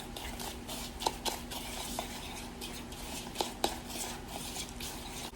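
Food being mixed in a small hot dish, with soft scraping stirs and a few sharp clicks of a utensil against the dish, close up and fairly quiet over a steady background hum.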